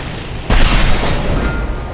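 A grenade explosion in the video game Mass Effect 2 booms suddenly and loudly after a brief quiet moment, then rumbles and fades over the following second.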